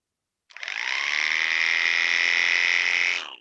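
Electric sheep shearing clippers of the Legend type switch on after a short silence and run at high speed, a loud steady whirring hum of the fast-moving cutter that holds evenly for about three seconds before cutting off.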